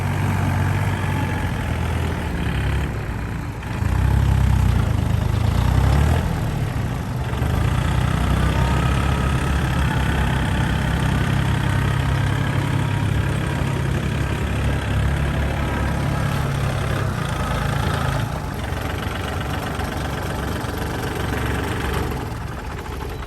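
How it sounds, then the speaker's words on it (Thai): A Yanmar 35 hp diesel tractor engine runs steadily nearby with a low, chugging rumble that swells briefly and then settles into an even idle. "ได้ชมวิดีโอการทำงานของรถไถยันมา 35 แรงม้าไปแล้วนะคะ"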